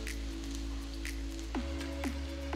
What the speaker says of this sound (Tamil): எண்ணெய் சூடானதும் நறுக்கின 1 டேபிள் ஸ்பூன் பூண்டு சேர்த்து வதக்குங்க.